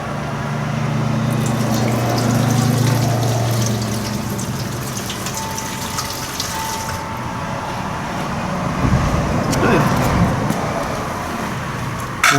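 Gasoline pours from a jug through a funnel into the tank of a 1978 Indian moped: a loud, continuous close trickle and gurgle that shifts in tone partway through, with a low hum underneath at the start.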